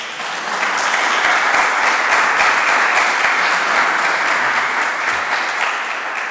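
Sustained audience applause for Lionella Genovese at a conference on disease-resistant grape varieties, a dense, steady wash of many clapping hands filling the room for about six seconds.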